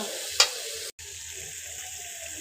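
Chicken frying with spices in a pan, a continuous close sizzling hiss with one brief sharp spike early and a momentary dropout before the hiss resumes steadily.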